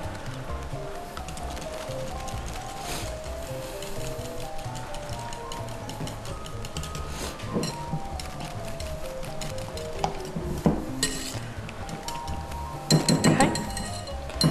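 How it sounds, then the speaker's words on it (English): A whisk beats milk into a mixture in a bowl, producing a steady run of rapid metallic clinks and scrapes against the bowl. The clinking continues throughout at close range, with louder clatters near the end and talking mixed in. "Just use your whisk to mix it up real good"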